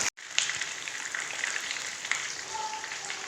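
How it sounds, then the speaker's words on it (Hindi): Chira fish fries in a pan with a steady, fairly quiet sizzle and light crackles, continuous and close after a brief break at the start. "इसको 4 से 5 मिनट के लिए एक साइड से पकाएंगे और ये बिल्कुल अच्छे से फ्राई हो जाएगा"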